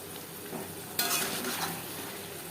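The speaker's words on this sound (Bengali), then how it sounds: "আলু ও মশলার সাথে গুঁড়ো মশলা মিক্সড করে দেব" Potatoes coated in ground spices sizzle in a pan on low flame while a spoon scrapes and stirs through them, the frying growing louder and brighter after the first second.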